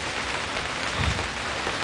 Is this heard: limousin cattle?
no